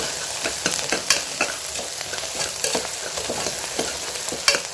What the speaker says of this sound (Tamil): சூப்புக்கு வெங்காயம் நல்லா வதங்கிட்டுருக்கு